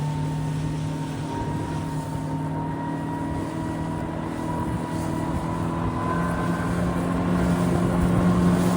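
Zodiac boat driven by a Yamaha 60 horsepower outboard engine cruising among glaciers and icebergs off Petermann Island, Antarctica, a steady loud droning hum with water rush, no talking.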